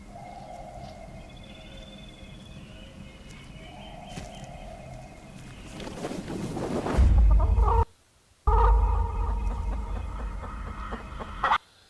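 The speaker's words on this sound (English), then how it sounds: "They have this evil chicken sitting out in the middle of the woods." A chicken clucks in a KFC commercial featuring a menacing chicken out in the woods, with steady calls over a quiet background, then a loud low rumbling swell near the end that cuts out briefly.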